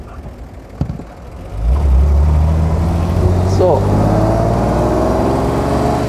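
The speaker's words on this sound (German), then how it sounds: "der 328 Motor hat einen tollen Sound, hat einen sehr guten Durchzug" A 1939 BMW 327/28 convertible with the six-cylinder BMW 328 engine pulls away, its steady mid-pitched engine drone rising and then holding as the car cruises, close and loud, while someone talks over it.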